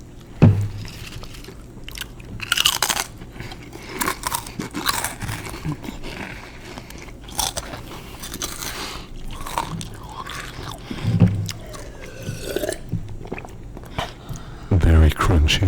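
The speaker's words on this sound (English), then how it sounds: "So let's start off with some hot Cheetos" Crunchy bites and chewing of hot Cheetos and Ruffles potato chips, several loud close crunches scattered among long stretches of talking.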